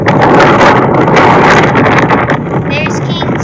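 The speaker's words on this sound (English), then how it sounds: "that very loud noise that you're about to hear is the wind" Strong wind roars across the summit of Kings Peak, a loud, continuous rushing buffet of microphone noise that fills the whole stretch without a break.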